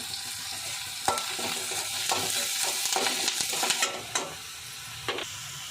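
Cumin, onion and curry leaves sizzle in a hot pan while a spoon stirs and scrapes through them in irregular knocks. There is no talking.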